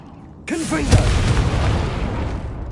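The Confringo blasting spell in Hogwarts Legacy erupts as one sudden loud boom with a swooping magical trill, then a rumbling, crackling tail that sustains for about two seconds.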